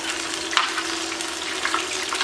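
Karaage chicken pieces sizzle steadily in hot oil during a second fry for crispness, a close, continuous crackle with small pops and no talking.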